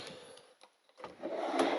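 A hotel room drawer slides and knocks shut in quick, quiet wooden scrapes and thumps, close by in a still room.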